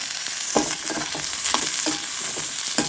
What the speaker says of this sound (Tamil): இப்போ பா காய் வந்து நல்லா வதங்கிடுச்சு